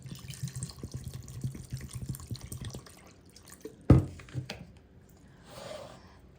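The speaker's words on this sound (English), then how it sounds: "on the left side, I'm going to put tap water." Tap water runs into a bowl, a thin trickle with scattered drips and a sharp splash midway, then quieter bubbling, close and moderately loud with no voices.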